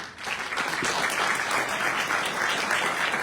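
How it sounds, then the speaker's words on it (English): A burst of steady audience applause at a high school, many hands clapping together at an even intensity throughout. "So let me get a round of applause."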